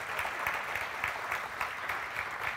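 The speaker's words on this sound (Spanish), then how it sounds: "Vamos a darle un aplauso a esta gente que está allá atrás." Audience applause at a church gathering, a steady, moderately faint clapping from a crowd with a lightly rhythmic pulse throughout.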